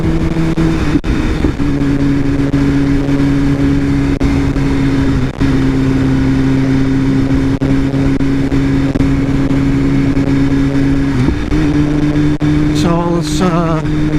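A 2015 BMW S1000RR sportbike engine holds a loud, steady high-pitched drone at speed, then surges sharply near the end as revs climb quickly, heard close with wind buffeting.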